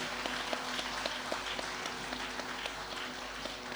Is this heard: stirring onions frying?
no